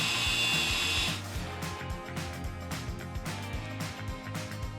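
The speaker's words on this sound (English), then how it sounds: "plug in your drill driver, wind it up and down." A power drill driver whirs steadily and loudly, then continues with a rhythmic pulsing grind as it winds an off-road caravan's jockey leg, running without pause throughout.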